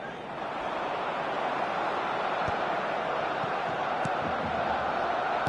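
A stadium crowd roars in an eFootball 2026 match between Espanyol and Barcelona, a dense, steady wash of cheering filling the background, with no speech over it.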